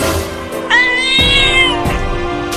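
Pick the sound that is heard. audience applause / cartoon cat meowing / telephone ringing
cartoon cat meowing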